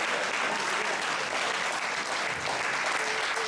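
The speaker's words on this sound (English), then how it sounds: "Give a tremendous round of applause." Sustained audience applause at a live motivational speaking event, steady and dense clapping from a large crowd filling the whole stretch without a break.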